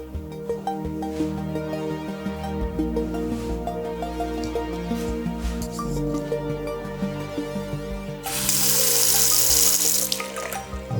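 Water runs from a tap inside an abandoned villa, a steady close splashing flow that grows louder and brighter near the end.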